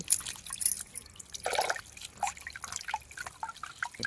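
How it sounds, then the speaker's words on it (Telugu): Pieces of baby shark fish are rinsed in water, giving quiet, irregular splashes, drips and trickles with a brief louder slosh partway through. "ఈ సరుముక్కలు రెండు మూడు సార్లు శుభ్రంగా కడుక్కోవాలండి"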